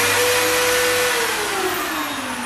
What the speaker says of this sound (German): dann hört man noch den Sauger, wie der noch nachzieht